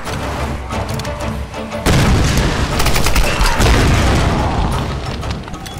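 Gunfire in the video game Tomb Raider, loud and continuous, with rapid shots and booming bursts layered over one another and intensifying about two seconds in.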